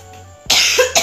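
A single forceful deliberate cough bursts out close and loud after a quiet moment, followed by a short second expulsion that sounds like phlegm being brought up.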